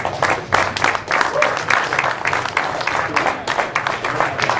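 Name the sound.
audience applauding at team launch event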